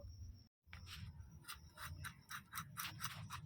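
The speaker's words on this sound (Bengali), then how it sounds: "পটলের খোসাগুলোকে আমি প্রথমে ছাড়িয়ে নেবো" Pointed gourds (potol) being peeled with repeated short rasping scrapes in a steady rhythm, close and moderately loud over a low background hum, with a brief silent gap near the start.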